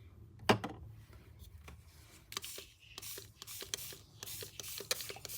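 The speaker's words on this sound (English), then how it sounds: "Just spraying some water on here, just so get color everywhere." A spray bottle mists water onto paper colored with Distress Spray inks in a papercraft session. Several short hissing bursts come close up in an irregular rhythm between faint handling rustles.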